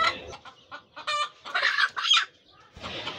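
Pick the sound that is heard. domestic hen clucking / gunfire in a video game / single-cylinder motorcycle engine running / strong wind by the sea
domestic hen clucking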